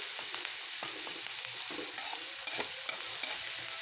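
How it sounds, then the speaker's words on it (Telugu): Eggs and onions frying in oil in a pan, a steady bright sizzle running throughout with light scraping stirs and a few small clinks of a utensil, close and alone without talk. "బాగా ఫ్రై చేసుకుందామండి"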